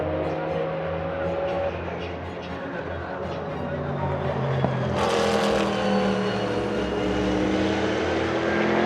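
Group C prototype race cars howl past at the Monza Historic circuit, a continuous loud engine roar with a sharp surge midway as one closes in, heard beneath a voice speaking.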